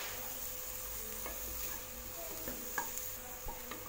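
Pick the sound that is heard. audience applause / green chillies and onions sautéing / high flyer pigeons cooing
green chillies and onions sautéing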